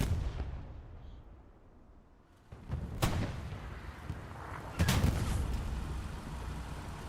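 Tank cannon fire in the video game Hell Let Loose, a medium Panzer IV trading shots with a 76 Sherman at night: two sharp booms a couple of seconds apart over a low rumbling backdrop.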